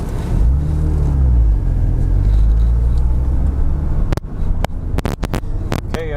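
A Porsche Cayman 987 sports car drives on the road with a steady, loud low engine rumble, followed near the end by a series of sharp clicks or knocks close by.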